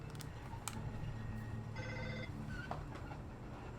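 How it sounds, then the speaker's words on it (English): A cell phone ringing in the Mass Effect 2 game setting, several short electronic ring bursts with tonal beeps over a low steady hum, fairly faint with no speech. "Somebody's calling my cell phone directly."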